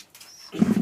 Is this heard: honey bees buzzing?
no